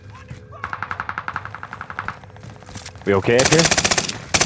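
Rapid automatic gunfire in Call of Duty Warzone on the Fortune's Keep map, a steady burst of evenly spaced shots followed by a louder, denser volley, with a player's voice speaking briefly between them.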